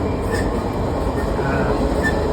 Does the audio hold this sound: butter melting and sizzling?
no